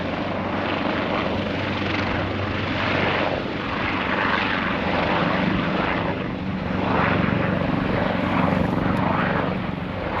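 Helicopter spinning up and lifting off from a helipad at a wildfire staging area, a steady loud rotor and turbine roar with rhythmic blade pulsing that swells as it climbs away, with no talk.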